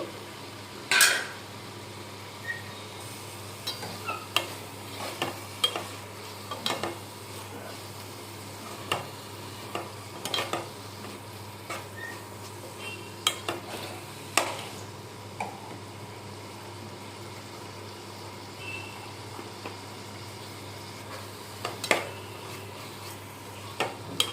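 Ingredients for a prawn and egg curry frying in a pan, a low steady hiss under scattered sharp clicks and taps of a spoon, moderately faint and continuous.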